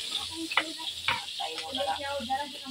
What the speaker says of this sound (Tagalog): So, syempre, paluto-lutuin muna yung bawang at saka sibuyas.